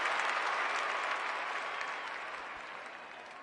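A large football crowd at a women's Australian rules match applauds and cheers in a dense, continuous wash of clapping that slowly fades over a few seconds.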